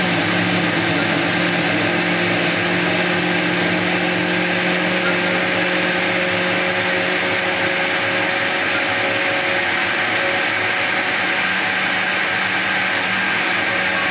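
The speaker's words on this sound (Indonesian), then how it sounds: "Saya lanjutkan blender dulu." Countertop blender grinding soybeans with water for homemade soy milk, a steady continuous motor whir holding at an even, loud level from start to finish with no voices.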